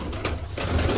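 Pigeons at their cages give soft, low cooing calls close by, over a steady murmur of outdoor background noise.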